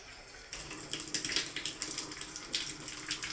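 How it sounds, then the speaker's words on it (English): Water rushes back on through a shower with low pressure after the valves are reinstalled, starting abruptly and then running steadily with a splashing, hissing flow heard up close. "Water goes back on now."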